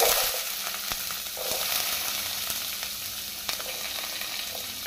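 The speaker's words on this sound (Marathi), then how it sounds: "हांगा हांवें 3 मिडियम सायज कांदे चिरून घेतला, ते घालून घेता." Three medium chopped onions frying in hot oil in a pan make a steady, dense sizzle that runs close and even throughout, with a few faint clicks of a utensil underneath and no talking.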